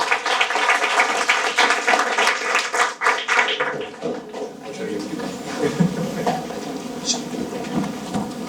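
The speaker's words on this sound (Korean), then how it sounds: "그래서 두 분 박수로 맞아주시겠습니다." Audience at a tech meetup applauds to welcome two speakers, a busy burst of clapping that is loud at first and then thins and tapers off over several seconds, with some background murmur.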